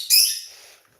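A pet lovebird in its cage gives a single sharp, bright chirp close by that trails off quickly, with no talking over it.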